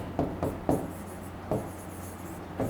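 Chalk or marker strokes scratching across a classroom board, several short bursts with pauses between them, close up over a steady low hum with no talking.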